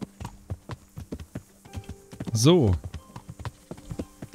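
Horse hooves clip-clop in steady, close rhythm across the ground in Kingdom Come: Deliverance, with a short burst of a horse's whinny or snort midway and a brief spoken word over the hoofbeats.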